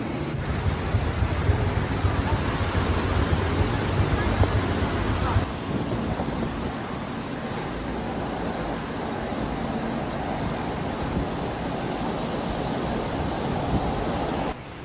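Strong typhoon wind roars as the storm makes landfall in Budai, southwestern Taiwan: a continuous broadband rush, loud and buffeting in the first seconds, then easing to a steadier, slightly softer roar.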